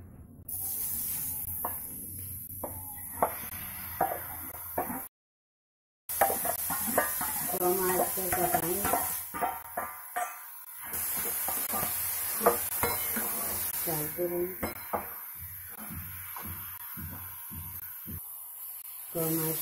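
Carrots fry in ghee in a kadai for gajar ka halwa, giving a low hissing sizzle with occasional stirring scrapes, mostly under someone talking, with a brief silent gap partway through.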